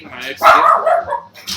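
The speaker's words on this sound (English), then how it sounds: "hey, that's the dog just going mad." A dog barks excitedly and repeatedly indoors at home, close and loud, with a person talking over the barking.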